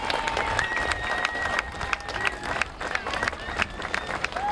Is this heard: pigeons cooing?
no